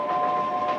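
A small steam-era branch-line train runs with a steady rumble and a sustained whistle-like tone held throughout, loud and close.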